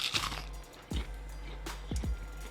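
Crispy fried zucchini slices, Greek style, bitten several times, giving soft, brief crunches spaced about a second apart in a quiet room.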